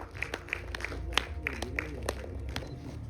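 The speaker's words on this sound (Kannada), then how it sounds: "ಚಪ್ಪಾಳೆ ಅದು ನಮ್ಗೆ ಮರ್ತೋಗ್ತಾ ಇರುತ್ತೆ ಅನ್ಸುತ್ತೆ" An audience at a Kannada film festival screening claps in scattered, uneven bursts, the individual claps sharp but fairly quiet, with some voices underneath.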